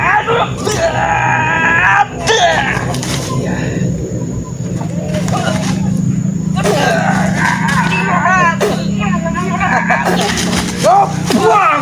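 Several people scream and yell loudly in a rough street confrontation with a gang boss, sustained strained cries overlapping through most of the stretch, with shouted voices mixed in.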